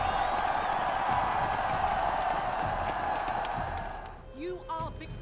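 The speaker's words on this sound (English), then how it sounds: "There is our victory applause" Victory applause in a strategy video game, a steady wash of crowd clapping and cheering that fades after about four seconds into a few short synthetic tones.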